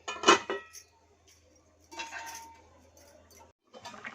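A metal lid is set onto a pot of Godavari-style fish curry in a home kitchen, giving a sharp clink followed by a few lighter rattles and scrapes of cookware.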